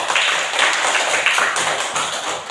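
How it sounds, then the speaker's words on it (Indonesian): A classroom group claps for a team of students during a teaching performance session, a dense and fairly loud burst of applause that runs steadily throughout. "Kita berikan tepuk tangan untuk kelompok 2"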